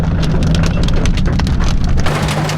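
Heavy rain pounds steadily on surfaces at a Texas drift competition, a dense, loud, unbroken patter close by with no speech.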